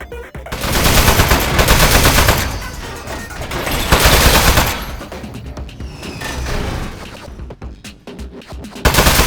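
Automatic turret fire in Aperture Desk Job comes in loud, sustained bursts of rapid shots. The bursts stop and start several times, with harder, sharper impacts toward the end.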